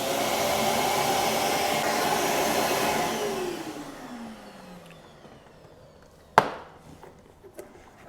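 A dust extractor roars with a loud whooshing suction, then winds down in pitch and fades away, followed by a sharp knock and a few faint taps once the bag has pulled tight against the bucket.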